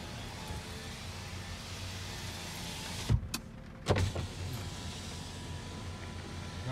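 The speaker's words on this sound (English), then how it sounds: "driver's window, passenger front," Power window motor on a 2005 Honda CR-V runs with a steady whirring hum, broken by two short thumps as the glass stops and starts again, heard close up inside the car.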